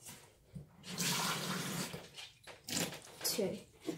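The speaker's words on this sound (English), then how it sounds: "you fill these two cups with water," Cold water pours into two cups for a kitchen trick, a soft splashing fill heard in short bursts close by while a person talks over it.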